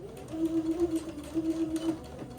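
A domestic sewing machine stitches backward and forward at the end of an elastic casing on a sewing project, running in two steady motor bursts with a brief pause between, up close.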